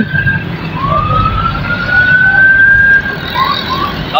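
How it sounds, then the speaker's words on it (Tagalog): Ambulance of the City of Navotas sounding its siren during a fun bike event, a loud rising wail sweeping upward and holding, heard near over outdoor crowd and road noise. "ambulansya ng City of Nabotas"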